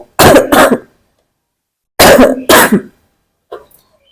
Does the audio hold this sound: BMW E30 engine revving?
no